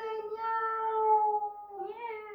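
A voice imitates a cat's meow during a children's yoga story: a long, drawn-out mew that holds steady, then a shorter rising second mew, clear and close.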